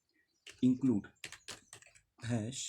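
A computer keyboard clatters briefly as someone types a C++ #include preprocessor directive, a quick run of crisp keystrokes between stretches of someone talking.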